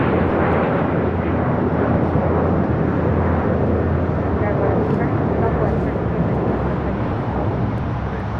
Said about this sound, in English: Another Latam Dreamliner heading to the south side for departure.